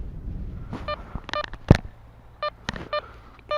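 A Garrett ACE Apex metal detector sounds target tones: several short electronic beeps and warbling tones in quick bursts, close and clear over faint outdoor background noise, with a thump from handling the detector.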